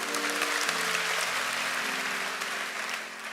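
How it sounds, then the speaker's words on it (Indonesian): A church congregation applauds during a sermon, a steady, full wash of clapping with sustained musical tones held underneath throughout. "Yang percaya berikan tepuk tangan untuk Tuhan."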